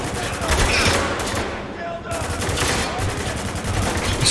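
Rapid automatic gunfire from a combat firefight in the video game Spec Ops: The Line, dense bursts running almost continuously with a brief lull partway through.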